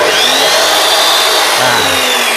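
A budget 10- or 12-inch miter saw motor runs loud and steady throughout, a harsh high whine with no break or pause.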